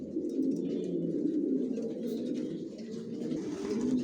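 Racing pigeons, a breeding pair of long-line Janssen racers, give soft low cooing that runs continuously and close by, with faint background noise and no talking.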